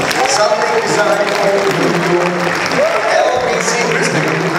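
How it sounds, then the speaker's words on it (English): Audience applause at a venue where sponsors are acknowledged: dense, steady clapping from a large crowd that fills the whole stretch, loud and close, with voices mixed into the din. "Give them a round of applause."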